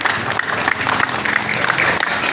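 Clapping from a crowd at a PSHT martial arts brotherhood thanksgiving gathering for new members, a brief burst of rapid hand claps mixed with some voices.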